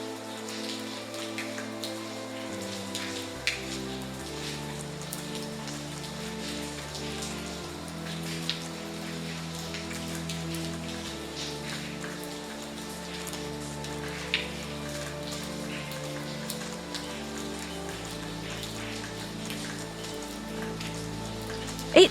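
Rain falls steadily in the video game Lucy Dreaming, an even, unbroken patter of drops over a sustained musical drone, with occasional slightly louder splashes and no voices.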